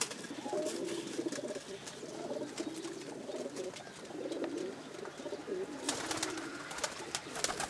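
Pigeons of a home-bred flying breed coo repeatedly, soft rolling calls at close range over a steady background, with sharper chirps near the end.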